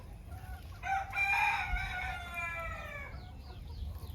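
A rooster crows loudly nearby in one long, drawn-out call, with softer clucking from chickens around it on a quiet farm.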